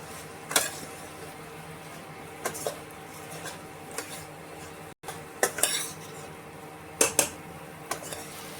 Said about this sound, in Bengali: এবারে মশলার সাথে ভালো করে মিশিয়ে নেব।